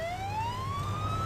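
A police car siren wails close and loud, its tone sweeping steadily upward over a low engine rumble, with no voices.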